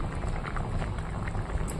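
Fish curry simmers in a pot, giving a steady, close bubbling and soft popping that runs evenly throughout with no voices.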